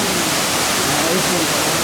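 Fuller Waterfall in Ghana, a loud steady broadband roar of falling water heard close and continuous, alone without talk.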